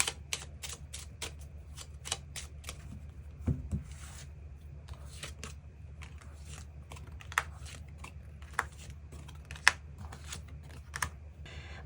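Tarot cards are shuffled and drawn by hand, a run of crisp, close clicks and soft slaps at an irregular rhythm over quiet room hum, with no one speaking.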